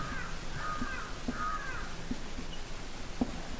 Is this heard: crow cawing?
yes